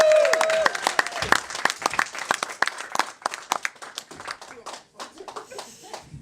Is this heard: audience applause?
yes